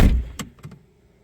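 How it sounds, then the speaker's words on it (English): Keys left in the door of a daily-driven Porsche: a loud thunk up front, then a couple of brief metallic jingles and taps that quickly fade, heard close and without any talking. "Oh, keys in the door."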